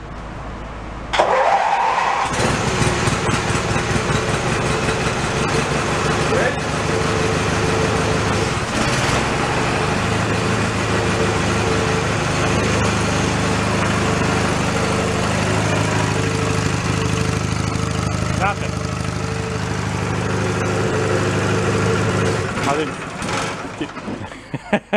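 A Snapper riding mower with its deck removed cranks over and fires, then runs at a steady, loud idle close by for most of the clip before cutting off near the end, with voices talking over the engine.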